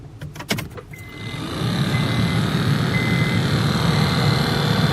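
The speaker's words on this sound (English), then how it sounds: "I got it to start spinning, but it's making that horrible sound." A few clicks and knocks, then a Honda Civic blower motor fan spins up into a steady whirring drone with a rough, grinding edge, close and continuous.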